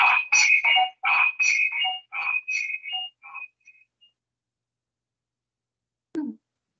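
A telephone rings during an online meeting, playing a bright melodic ringtone of repeated tones that fade and stop, followed by a single soft thump.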